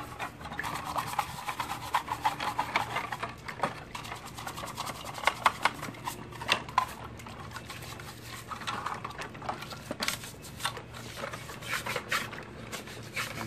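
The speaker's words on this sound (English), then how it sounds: "just a little bit of brushing. And this is just a soft brush." A soft brush scrubs rust off a VW Bug oil bath air filter part with rapid, raspy rubbing strokes in uneven bursts, close up and fairly quiet, with no talking.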